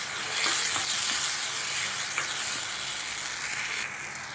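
Onion, tomato, ginger, green chili and garlic paste sautéing in a pan for an egg gravy, giving a steady soft sizzle with faint stirring scrapes, close and alone without talk.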